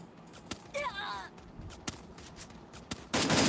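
Gunfire in the mobile battle game Free Fire: several sharp isolated shots ring out, spaced apart, with a brief chirpy game effect between them and a louder burst of noise at the end.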